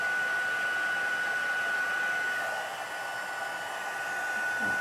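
A heat tool blows a continuous, even hot-air whir with a steady high tone while melting embossing powder on felt, close and unbroken for the whole stretch.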